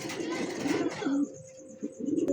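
Pigeons coo in a loft, soft rounded calls rising and falling close by, with a short pause mid-sequence before the cooing resumes.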